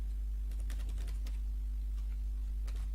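Soft clusters of keyboard clicks in short bursts, with a pause in the middle, over a steady low electrical hum.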